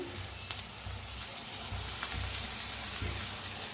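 Onion, green chili, garlic and crushed peanuts sizzle and fry steadily in a hot pan, a dense close crackle with no voices over it.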